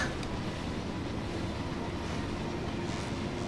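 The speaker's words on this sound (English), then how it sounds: "Let's set the copper train off as well" Factorio copper train departing, a steady low mechanical rumble of wagons rolling along the rails, continuous and moderately loud throughout with no talking.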